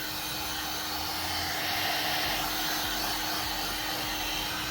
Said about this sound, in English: you can start drying it with a heat gun